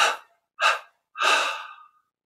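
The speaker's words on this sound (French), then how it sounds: "On expire en 3 fois." A deep meditative exhalation released in three separate breathy pushes, close and clear with short silent gaps between, the last breath longest and trailing away.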